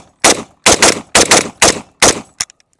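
An AK-47 rifle fires five evenly spaced loud shots at close range, each with a short ringing tail, followed by a fainter click and small mechanical noises.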